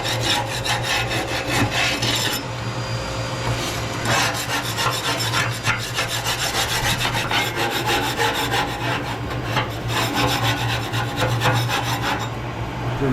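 Steady rasping scrape of a tool working tar off the inside of a large Hunter boiler stove, continuous and close with rhythmic strokes and no talking.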